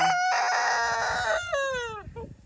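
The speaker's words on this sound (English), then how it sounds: "These are the roosters that we bought." A rooster, one of a group of dual-purpose meat roosters including black Australorps, crows once loudly and close by, a long strained call that breaks and trails off at the end.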